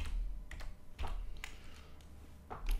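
Quiet tapping on a computer keyboard while entering a command during router setup, a few separate clicks and short runs of keystrokes, close and soft.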